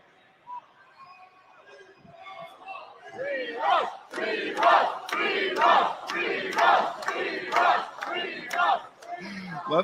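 A large crowd at a Bitcoin conference roars and chants in loud rhythmic bursts of cheering, swelling after a quieter start and pulsing with repeated shouted waves that fill the hall.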